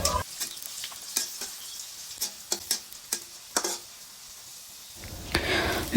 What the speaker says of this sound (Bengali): শুকনো মরিচ এগুলো আমরা মচমচা করে ভেজে নেব